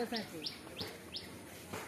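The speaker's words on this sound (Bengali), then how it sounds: "কোকিলের আওয়াজ।" Koel calling from a wire, a few repeated clear whistled call notes at a steady rhythm over quiet outdoor background, moderately near.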